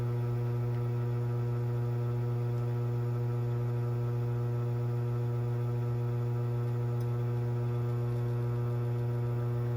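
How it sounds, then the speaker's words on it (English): An espresso machine pulls a shot of about 20 grams in to 40 grams out. Its pump gives a steady, loud, unbroken low hum that continues alone for the whole stretch. "So let's just stay tuned as we pull the shot."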